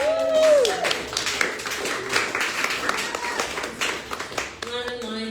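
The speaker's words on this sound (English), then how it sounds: "Can you give all of you a round of applause?" Audience applause at a live poetry and art gallery event: a room of scattered claps and cheers that builds after a speaker's voice at the start and continues under remaining talk.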